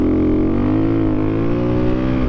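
Engine of a 2022 KTM 350 EXC-F dual sport motorcycle running steadily under load on a dirt road, a close, continuous buzzing drone with a slight rise in pitch.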